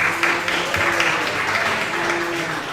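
Crowd applause fills a sports pub, a steady dense wash of clapping that holds at an even level throughout with a faint murmur of voices beneath.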